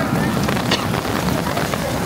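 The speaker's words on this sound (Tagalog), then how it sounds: "grabe ang ulan" Heavy rain pours down around people heading home at Universal Studios Singapore, a dense, steady hiss with wind buffeting the microphone, loud and continuous with faint voices beneath.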